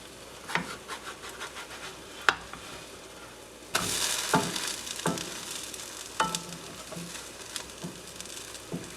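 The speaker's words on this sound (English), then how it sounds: "Now carefully start flipping your bread." French toast frying in a pan, a low sizzle under repeated sharp scraping taps of a utensil against the pan as the bread is flipped, with a louder burst of hissing partway through.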